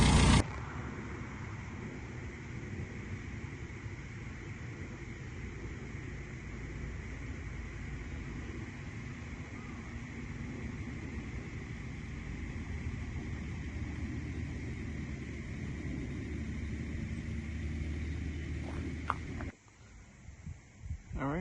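A Mazda B2000 pickup truck engine running at a steady idle, a constant low rumble with a broad noisy hiss, unchanged for most of the time before cutting to quieter sound near the end.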